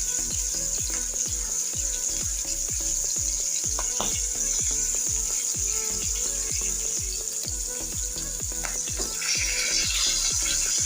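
Pangas fish frying in a pan over a medium flame, a steady bright sizzle throughout with a run of regular ticking clicks, close and even, no speech.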